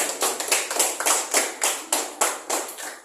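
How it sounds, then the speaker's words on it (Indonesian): Steady rhythmic clapping, about ten even, sharp claps at a brisk regular tempo, close and loud with no talking. "Kasih tepuk tangan dulu."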